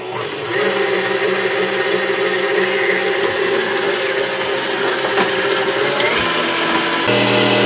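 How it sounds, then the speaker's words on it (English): Electric hand mixer beating two egg whites until foamy for butter horn cookies, a steady loud whirring motor hum with rattling beaters, continuous and close. "we're going to beat these until they're foamy"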